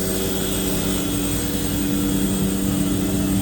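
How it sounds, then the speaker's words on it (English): Compressed air being let into a tanker truck's pump, a loud, steady roaring hiss with a constant droning hum, continuous and close, with no talking. "I give it little bit air from this place"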